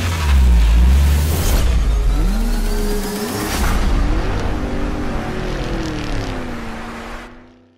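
A Porsche 911 Group 3 race car in Gran Turismo laps Laguna Seca, its engine revving loudly and close with rising and falling pitch as it shifts gears, then settling into a steady high drone before cutting off.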